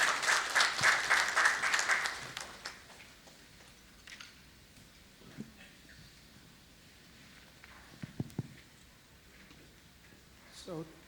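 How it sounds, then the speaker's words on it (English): Audience applause at a panel discussion on smart lending, a burst of indoor clapping for about two seconds that quickly fades, followed by sparse small knocks and rustles. "Can we have a huge round of applause for him?"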